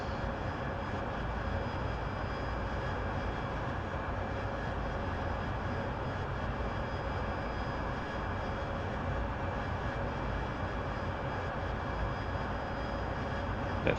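An AV-8B Harrier jet in a flight simulator game, rolling in toward a target, gives a loud, steady, unbroken engine roar that holds for the whole stretch with no talk.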